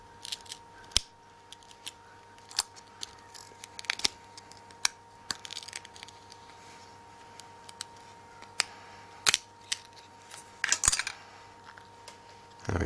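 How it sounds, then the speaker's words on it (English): Sharp, scattered cracks and snaps of a Nokia N8 LCD screen being prised unstuck from its digitizer with a knife, irregular and close, with quiet gaps between bursts. "just lift the LCD screen away from the digitizer. You can hear it coming unstuck."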